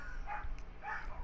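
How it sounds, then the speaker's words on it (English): A dog gives two short barks, fairly faint and slightly muffled, with no talk over them. "dogs."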